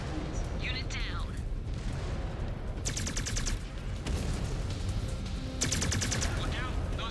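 Heavy weapons fire from battling mechs in MechWarrior 5 Clans, with rumbling blasts and bursts of rapid repeating shots over a constant roar, broken up by short electronic bleeps and a voice talking.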